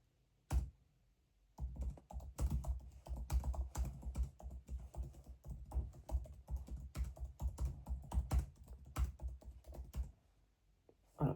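Fast typing on a computer keyboard, a dense run of close, crisp key clicks lasting several seconds, with a single isolated tap before it and another after it in an otherwise quiet room; nobody speaks.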